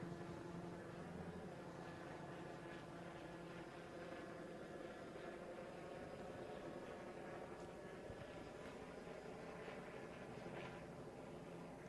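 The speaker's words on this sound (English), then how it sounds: "You can hear a sheriff's helicopter here." A sheriff's helicopter flies over the east side of Santa Barbara during a police standoff, a faint, continuous rotor drone with a low hum that stays steady throughout.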